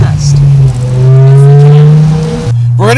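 A V10 BMW M6 pulls hard under acceleration, its engine note climbing steadily in pitch over loud, close intake and exhaust roar, with a brief break like a gear change before it rises again.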